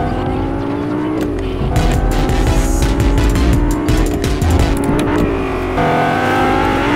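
Engine drone and repeated tire squeals from a car being driven in the video game Fortnite, loud and continuous with sharp skidding bursts throughout.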